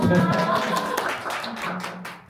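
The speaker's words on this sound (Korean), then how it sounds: "네, 박수 한번 주세요." Scattered clapping from an audience at a new-teacher training session, softer and uneven, with voices and murmuring mixed in over the hand claps.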